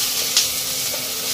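Ginger and finely chopped onion frying in a pan for a simple leftover breakfast dish, a continuous even sizzle with one short brighter crackle, no voices.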